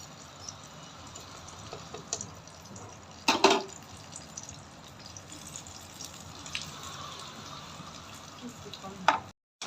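Chickpeas with spices frying in a pan, a faint steady sizzle with a couple of sharp clinks of a utensil against the pan.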